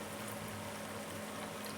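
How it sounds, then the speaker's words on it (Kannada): Half a litre of thick milk is poured into a pan of carrots for carrot halwa, making a soft, steady, continuous splashing hiss. "ನೋಡಿ ಅರ್ಧ ಲೀಟ್ರ್ ಹಾಲನ್ನ ಹಾಕ್ತೀನಿ ಇವಾಗ"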